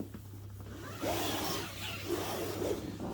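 A zipper runs on the inner door of a Terra Nova Southern Cross 1 tent, with a couple of quiet close-up pulls and scraping fabric against a low background hum.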